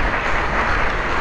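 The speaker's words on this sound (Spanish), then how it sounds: "Dale un aplauso al Creador." Brief burst of applause from a congregation at a Torah portion and Haftarah service, a dense, steady wash of many hands clapping at once, loud and close, with no talk over it.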